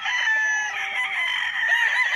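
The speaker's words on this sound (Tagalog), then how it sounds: "So ang ingay ng mga manok, dami kasing manok mga kapraps." Loud, continuous crowing and clucking from many chickens and roosters close by on a farm lot in Liliw, Laguna, overlapping without pause.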